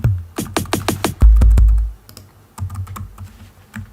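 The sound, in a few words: typing on a computer keyboard for musical typing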